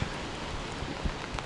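Steady rain falls in a Japanese city, a soft, even hiss of drops with faint low thumps, continuous and fairly quiet with no voices.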